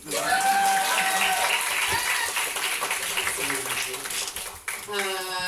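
Comedy club audience clapping and cheering loudly, a dense wash of applause that keeps going across the whole stretch, with voices mixed into the crowd noise.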